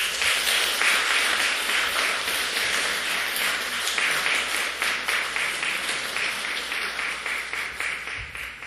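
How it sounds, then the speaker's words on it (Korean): A church congregation applauds during a Sunday service plaque presentation, steady close clapping that runs throughout and thins slightly toward the end. "다시 한번 박수 부탁드리겠습니다."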